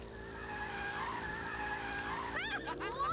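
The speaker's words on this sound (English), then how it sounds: "Release left trigger and the cart will accelerate." Go-kart in All-Star Fruit Racing holding a sustained engine whine with tire scrub through a drift, then rising pitch sweeps as it releases and accelerates away near the end.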